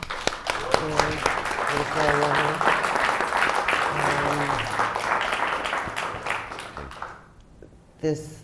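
An audience applauds Oleksandr Zinchenko with a dense, sustained roar of clapping mixed with voices, fading out near the end before a brief sound at the close.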